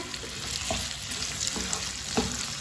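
Long-cut potato pieces sizzle steadily in a hot pan over high heat, with a few soft scraping stirs cutting through the continuous frying hiss; close up, no talking.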